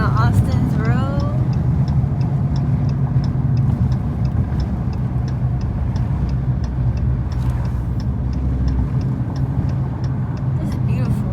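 Six Dodge SRT cars cruising together on a road with hazards on, a steady loud engine drone and road rumble heard from inside one car, with repeated ticking clicks.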